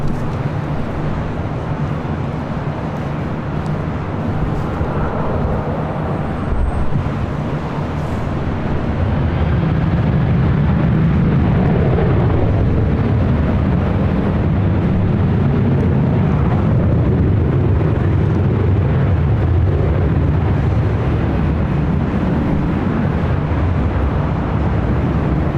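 An Airbus A350 jet departing from LAX at night, a broad, roaring engine rumble that swells after several seconds and holds loud and steady for the rest, with no talking.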